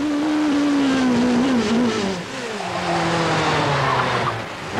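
A race car engine on a hill climb over a closed public road screams upward in pitch to about 11,000 RPM, drops briefly with a gear change, then climbs again, loud and close, with no talking.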